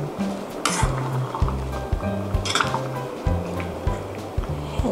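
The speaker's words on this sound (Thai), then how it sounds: "คนเบาๆนะคะระวังเนื้อปลาเละ" A spoon gently stirs fish miso rice porridge seasoned with soy sauce in a pot, giving soft rhythmic scraping strokes and light clinks against the pot over a faint simmering hiss, with no talking.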